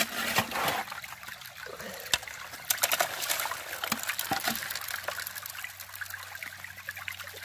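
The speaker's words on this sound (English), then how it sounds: "what I've been doing is running it through this here sluice box. Scoop it in nice and slow" Water rushing and trickling as gravel is washed through a gold prospecting sluice box outdoors in West Virginia, a steady close splashing flow broken by occasional clinks and knocks of stones.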